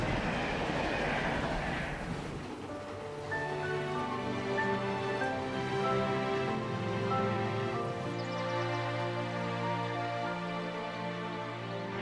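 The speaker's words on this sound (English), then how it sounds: "As TITIPO moves out of the way, the locomotive speeds past him." A cartoon locomotive speeds past in a children's animated train show, a brief rushing whoosh followed by a sustained musical score with held tones, fairly quiet throughout.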